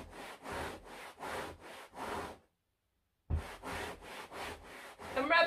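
A fabric sofa coated in black chalk paint is rubbed hard by hand, giving repeated rhythmic scrubbing strokes, close and moderately loud. A short pause breaks the strokes, then the rubbing resumes.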